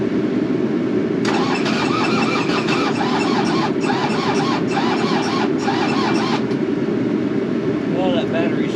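A Takeuchi excavator engine cranks over on a weak battery in a long, loud, labored churning run of rhythmic starter pulses. It stops, then gives a brief second crank attempt.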